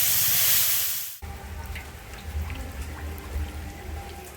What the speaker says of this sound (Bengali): এখন বৃষ্টি পড়ছে, একটু কমলেই যাব।